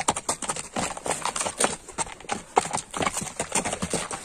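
A white horse's hooves clip-clop steadily as it turns this way and that, a close, busy patter of hoofbeats with no voices over it.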